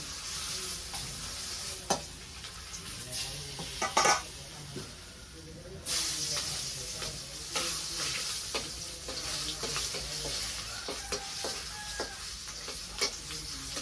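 Fish frying in hot oil in a pan: a steady, close sizzle runs throughout, broken by sharp clicks and scrapes of a utensil stirring or turning the pieces. No one speaks.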